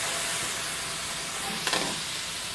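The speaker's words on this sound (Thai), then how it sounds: "เคี่ยวแป๊บหนึ่ง" Shrimp with glass noodles simmer in a pan with a little added water, giving off a steady, soft sizzling hiss with a brief crackle near the end and no voices.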